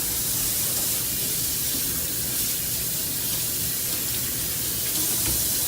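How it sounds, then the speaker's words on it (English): Tap water runs steadily into a kitchen sink while broccoli pieces are rinsed, a continuous close splashing hiss with no talking. "Want to wash your broccoli off good."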